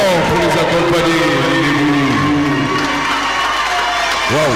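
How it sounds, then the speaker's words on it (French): A crowd at an intercontinental gathering of laypeople cheers a Senegalese performance, loud and close, with shouting, whooping voices over scattered clapping that stays lively throughout. "Encore des applaudissements plus forts pour les accompagner."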